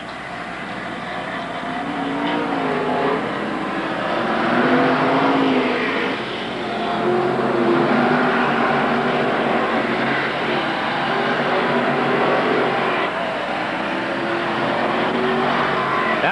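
Modified stock cars racing on an oval speedway in a lap-10 heat, engines droning loud and continuous as the pack circles, with rising and falling passes but no break in the noise.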